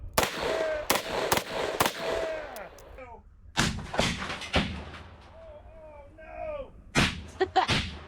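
Loud, sharp reports from a double-barrel 1911 pistol firing .45 ACP, with rapid pairs and single shots echoing outdoors, separated by pauses and a short gap where the firing stops.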